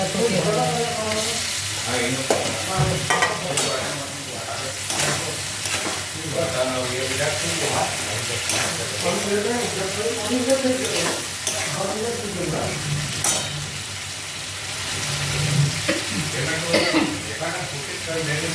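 Potatoes fry in a pan with steady sizzling and crackling, with occasional stirring and clinks of a utensil; a voice talks faintly underneath at times.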